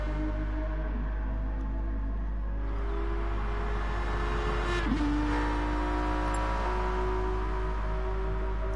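Aston Martin race car engine from the Gran Turismo Sport racing game at a multiclass night endurance race at Bathurst, droning steadily throughout with a pitch shift near the middle, mixed with other cars racing nearby.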